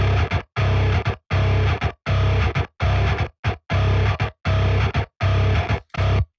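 A heavily distorted, growling bass guitar from a mix plays tight rhythmic chugs in short, evenly spaced bursts separated by brief silences, loud and alone.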